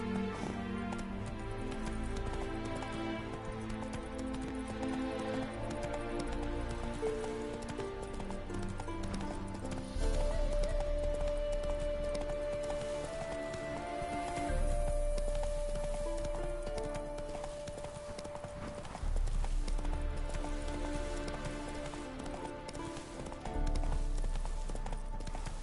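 The horse Roach gallops in The Witcher 3: Wild Hunt, its rhythmic hoofbeats running under a loud, continuous music score that mostly masks them.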